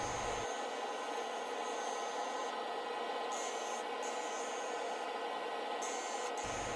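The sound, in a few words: Carter & Son skew chisel cutting resin bowl on lathe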